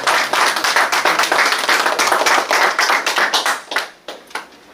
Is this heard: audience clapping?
yes